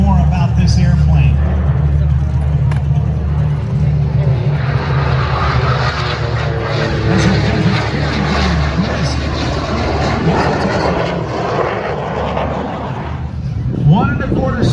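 Jet aircraft at a Blue Angels air show roars steadily and loudly overhead throughout, a continuous engine drone with a rising swell near the end, while people talk over it.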